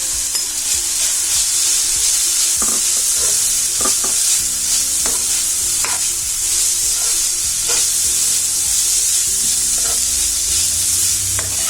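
Shredded cooked chicken with masala frying in a pan, loud continuous sizzling broken by repeated scraping and knocking strokes of a spoon stirring, up close with no voices.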